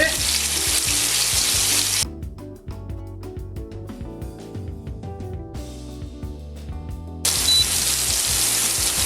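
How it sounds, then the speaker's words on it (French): A stuffed bavette steak pan-fried like a classic steak, loud bright sizzling that drops away for several seconds to leave quiet clinks and handling noises, then returns at full strength. "Donc cuisson à la poêle comme un steak classique."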